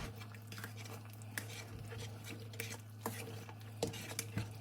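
A spoon stirs through seasoned mashed potatoes in a bowl, giving quiet, close, irregular scraping and soft squelching taps.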